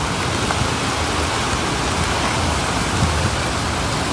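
Heavy rain pours down hard in Sihanoukville during a storm that flooded streets and toppled trees, a dense, unbroken roar of downpour at constant loudness.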